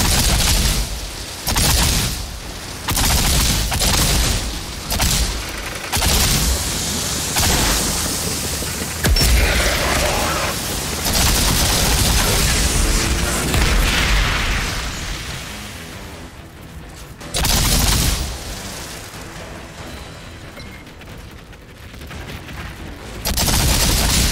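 Loud, sustained gunfire and explosive blasts from the sci-fi shooter video game Outriders come in heavy repeated bursts separated by brief lulls, with booming impacts throughout a long chaotic firefight.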